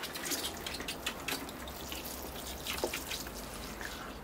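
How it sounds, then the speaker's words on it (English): Watering a Portulacaria afra bonsai forest planted in baobab style with moss and a pale salt-flat surface, giving a soft steady patter and trickle of water with a few brief drips, close and fairly quiet. "Okay, I'll water that in and see how it looks."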